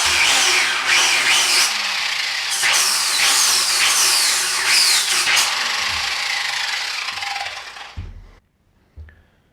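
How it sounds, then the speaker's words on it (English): A power drill whirs and grinds through a car valve cover for several seconds with a few pitch changes, then stops, followed by a couple of light clunks. "drill the holes."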